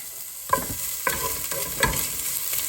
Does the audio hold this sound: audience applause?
no